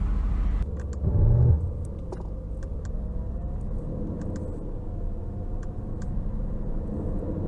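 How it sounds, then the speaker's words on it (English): A 2020 Aston Martin Vantage V8 on an open road, heard from inside the cabin as a steady low engine and road rumble, with a brief louder swell early on before settling into an even drone. "Let's go ahead and take this Aston Martin Vantage out on the road for a quick test drive."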